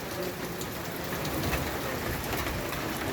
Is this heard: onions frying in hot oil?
no